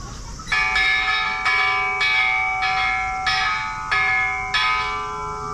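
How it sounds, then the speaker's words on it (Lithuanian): The Peace Bell in Hiroshima Peace Memorial Park rings close and loud, about eight resonant strikes roughly half a second apart, each leaving a bright, lingering ring. "Taikos varpas."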